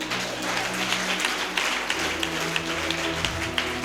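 A church congregation at a seminar applauds, a steady, fairly dense patter of many hands clapping together for several seconds, with faint voices and rhythmic music underneath.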